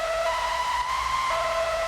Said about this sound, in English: And that is just Serum, the classic, 1 saw wave.